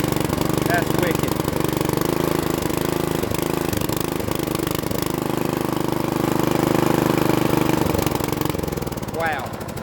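Bolens riding mower engine, abandoned and being revived, running on choke with Seafoam added, a loud steady idling chug with rough knocking pulses, close up, with a person talking over it.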